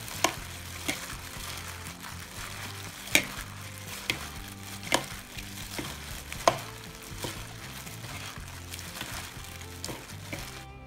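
Chopped chilies, herbs and shallots stir-fried for a Lao mussel dish: a constant close sizzle broken by sharp spatula scrapes and knocks against the pan every second or so, with no talk.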